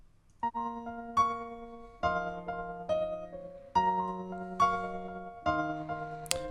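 Piano melody processed through the Portal effects plugin's default preset, plucked chords and single notes with shimmering, smeared tails and a closing glitchy sweep, fairly quiet and without voices.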